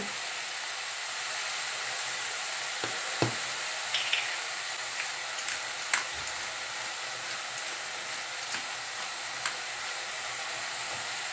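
Chicken escalope seasoned with salt and black pepper sizzles in a pan, giving a steady close hiss broken by occasional light clicks and utensil taps as it is stirred gently, with no voices.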